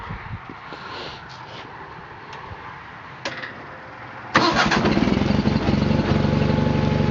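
A John Deere 318 garden tractor with an Ace pump attached runs at idle, a steady low engine drone that jumps noticeably louder and busier partway through, then holds at that raised level with no talking.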